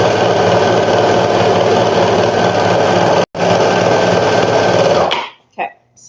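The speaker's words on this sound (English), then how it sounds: "I'm just going to go ahead and sew it real fast" A sewing machine runs fast and loud on baby ruffle bloomers in one continuous burst with a momentary break, then stops abruptly, followed by a brief faint sound.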